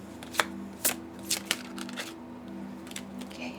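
Oracle cards shuffled by hand in a quiet room, a series of crisp riffling snaps and slaps spaced about half a second apart over a low steady hum, fairly close and moderate in level.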